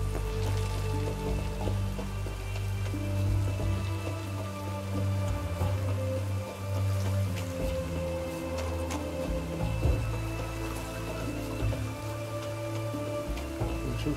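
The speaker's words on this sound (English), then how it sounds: "Looks like rain." Steady rain patters across a game world in The Witcher 3: Hearts of Stone, a dense, even hiss of drops on surfaces with a low rumble beneath, continuous and fairly loud.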